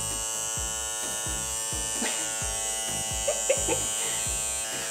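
A battery-powered suction device buzzes steadily and close, with a strong mechanical hum pulsing at a regular rhythm of about twice a second and a few faint clicks and rustles layered on top.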